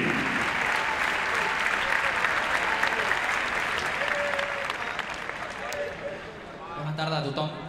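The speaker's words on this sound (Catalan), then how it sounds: "Si us plau, un fort aplaudiment per Jonathan Giraldez" Loud sustained applause fills a large stadium crowd at FC Barcelona's 2021/2022 team presentation, a dense wash of clapping that slowly tapers while an announcer's voice comes in, speaking Catalan, near the end.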